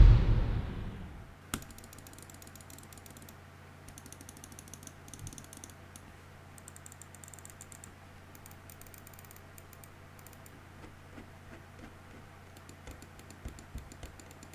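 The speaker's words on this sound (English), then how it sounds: "Let's go ahead and hear a sound test for every button on this mouse." Xtrfy M4 gaming mouse buttons clicked one after another, a long run of small, crisp, close clicks in a quick steady rhythm over faint background hum, with no talking.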